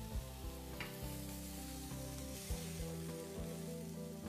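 Bell peppers sauté lightly in a pan with a steady, quiet sizzle and occasional stirring clatters and scrapes, no voices.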